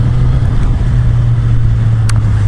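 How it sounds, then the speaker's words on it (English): A steady loud engine drone and road rumble fill the whole stretch, like a car running close by, with no voices. "oh, there's a car now"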